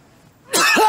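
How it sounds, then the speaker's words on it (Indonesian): A single harsh, gruff cough bursts out after a second of near silence, loud and close, with a rough, barking, almost angry quality. "Batuknya aneh banget. Kayak orang marah."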